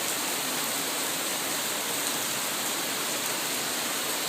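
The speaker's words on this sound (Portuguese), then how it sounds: "Um belo de um banho de chuva." Steady rain shower pours down in an even, continuous hiss, close and fairly loud, with no voices over it.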